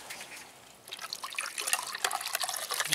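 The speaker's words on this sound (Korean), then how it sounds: "아롱이도 물 좀 줘야지. 물이 조금 남았는데" Water is poured out for a dog to drink, starting as a faint trickle and swelling into a steady splashing pour nearby.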